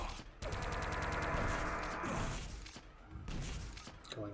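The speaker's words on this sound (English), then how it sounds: "He fires his very first rocket, like the frame he picks up the rocket launcher" A rocket launcher fires in Quake 3 during a DeFRaG competition run, producing loud explosive blasts and booming thuds in quick succession, with no talking over the game action.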